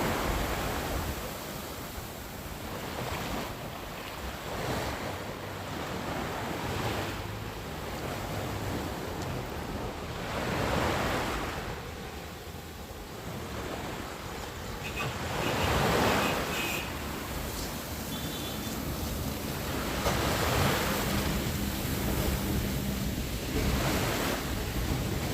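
Ocean waves and swell washing onto the west coast shore, repeated broad surges of surf every few seconds at moderate distance, with wind buffeting the microphone and no voices.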